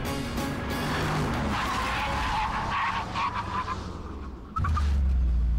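A Mercedes McLaren SLR with carbon-ceramic brakes brakes hard, its tyres squealing loudly for several seconds as the car slows, followed by a sudden deep engine rumble near the end.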